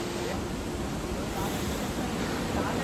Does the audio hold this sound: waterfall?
yes